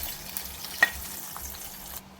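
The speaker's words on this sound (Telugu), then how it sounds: "పోపు ఇందులో వేసేసుకోండి." Tempering spluttering in hot oil as it is tipped into cooked dal, a soft steady sizzle with one brief sharp crackle, then cutting off abruptly near the end.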